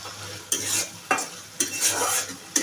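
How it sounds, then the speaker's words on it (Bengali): Spice masala with a splash of water is stirred and cooked down in a pan for a cabbage and tangra fish dish: brisk, evenly spaced scraping strokes over a bubbling sizzle, close and fairly loud. "একটুখানি জল দিয়ে সামান্য একটু জল দিয়ে কষিয়ে নেব। একটু নেড়ে চেড়ে দেবো।"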